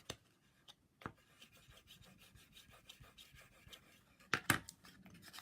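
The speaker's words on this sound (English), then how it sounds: "and then we're going to burnish that one" Rubbing and rasping strokes as a paper panel for a handmade craft cup holder is burnished, with soft steady friction throughout and a couple of sharper scrapes near the end.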